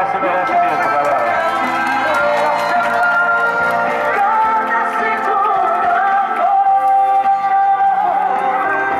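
A crowd at a romantic surprise proposal in City Jaraguá claps and cheers continuously, with dense overlapping applause, whoops and voices forming a loud, sustained wash of sound over music.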